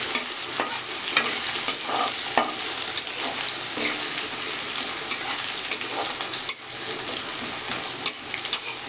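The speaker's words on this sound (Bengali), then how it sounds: "একটু পেঁয়াজটা ভেজে দিচ্ছি" Onions frying in a pan for mutton curry give a continuous loud sizzle, broken by scraping stirs and occasional clinks of a utensil against the pan throughout.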